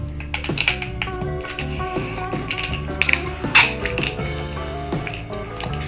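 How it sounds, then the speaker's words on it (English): A CO2 cartridge being unscrewed from an Umarex T4E pepper ball pistol, a close run of clicky metallic ratcheting and grinding turns with small taps and a brief louder squeak near the end, no speech. "Let's go ahead and remove the CO2 cartridge from it"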